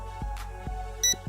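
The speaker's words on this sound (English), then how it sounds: "I turn this on, I get one beep" A drone racing starter kit controller powers on and gives one short, high electronic beep over a faint hum and a few soft low thumps, close and quiet.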